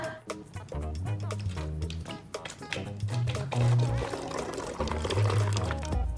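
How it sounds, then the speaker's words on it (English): Vinegar glugs and splashes as it is poured from a measuring cup into a plastic bottle, a close, steady gurgling pour lasting several seconds with no talk. "We're gonna pour the vinegar in our first bottle."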